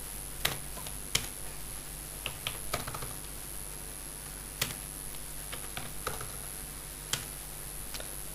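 Keys clatter on a computer keyboard during work on an Excel 2007 spreadsheet, with sparse, irregular clicks and a few sharper taps spread across the stretch, faint over a steady background hiss, with no talking.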